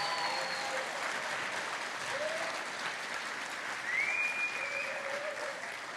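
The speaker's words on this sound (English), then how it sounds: "Let's have a big round of applause for the professional photography grads" A graduation crowd applauds professional photography graduates with sustained, dense clapping that holds steady and carries a few faint cheers and whistles.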